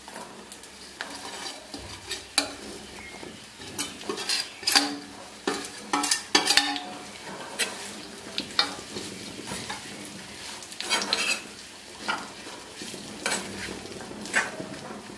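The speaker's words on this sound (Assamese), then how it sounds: "এতিয়া কেৰাহীত অকণমান মিঠাতেল দিছো আৰু এতিয়া মই তেতেলীখিনি ভাজিবলৈ লৈছো" Tamarind fries in a little mustard oil in a kadai with a steady close sizzle, and a spoon scrapes and clinks against the metal pan in irregular bursts as it is stirred.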